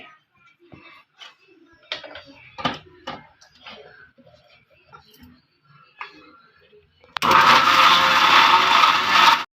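Someone talks for several seconds before a mixer grinder roars on loudly, blending mango with fresh milk cream and cardamom in a steady whirring run of about two seconds before it stops.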